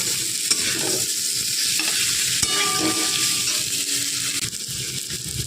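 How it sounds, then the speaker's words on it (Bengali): Potatoes frying in a pan are stirred together with spice paste, a continuous close sizzle overlaid by scraping and clinking of the spatula against the pan, with no voices. "চলুন মশলাটা এবার আলুর সাথে মিশিয়ে নিই ভালো করে।"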